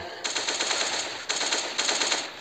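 Rapid automatic gunfire in a shooter video game's arena mode: three loud, close bursts of fast repeated shots with brief gaps between them.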